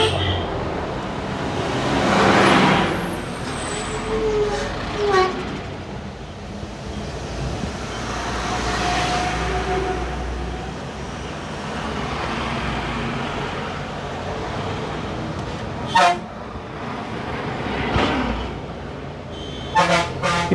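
Heavy trucks climbing a hairpin bend on the Thimbam ghat hill road, a steady loud rumble of engines with horn toots and passing vehicle swells, no talking.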